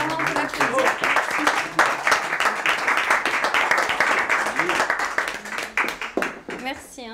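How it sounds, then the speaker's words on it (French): Audience applause at a French-language performance or workshop, with scattered hand clapping heard close by. Voices talk and laugh over the clapping throughout, and the clapping fades toward the end. "on peut l'applaudir"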